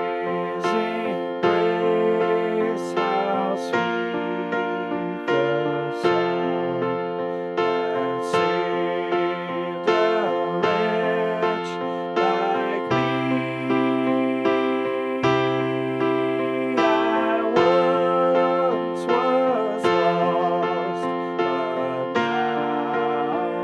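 Piano chords carry the hymn Amazing Grace in a gentle three-beat waltz rhythm, with sustained, ringing chords changing at a slow, even pace, played close and alone.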